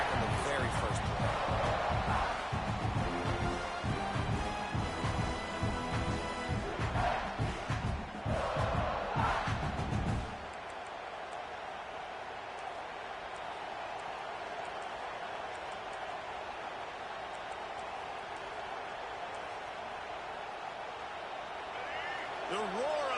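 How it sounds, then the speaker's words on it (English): A Coastal Carolina football stadium crowd roars for ten seconds, loud and dense with cheering, before dropping to a lower murmur under a commentator's voice. "The roar of the crowd trying to fuel this defense to keep them pinned in their own end"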